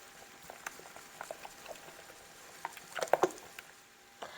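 Ingredients for a creamy cabbage casserole are mixed in a bowl, giving faint, irregular wet squishing and soft patter close by.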